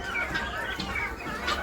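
Hens cluck in short bursts inside an egg-laying room on a poultry farm, with broody hens sitting on their eggs, a steady flock chatter close by without talk.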